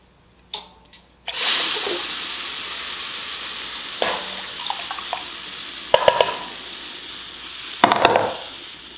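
Steady sizzling hiss from a yarn dye pot, with intermittent clinks and splashes of liquid, moderately loud and close, no talking.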